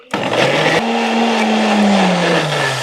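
A blender starts abruptly and runs loud and close, whirring as it purees eggplant and tomato into juice, its motor pitch shifting after a second as the load settles.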